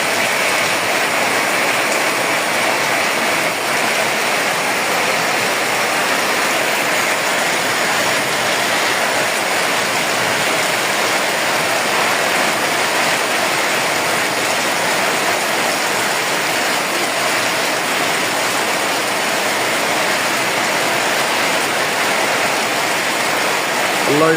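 Heavy rain pours down in a strong wind during a storm, a loud, dense, steady roar that runs unbroken from start to finish with no voices.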